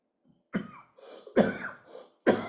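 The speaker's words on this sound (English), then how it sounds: "I'm coughing because air conditioning is blowing on me" Someone coughing in a dry, air-conditioned room, three sharp close coughs with short throat-clearing sounds between them.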